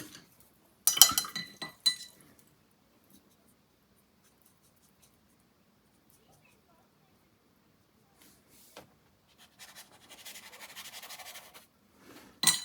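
Small watercolor paint pots clinking against a palette as they are picked up and set down, a cluster of light glassy taps early on, then quiet, then softer rubbing and clinks near the end.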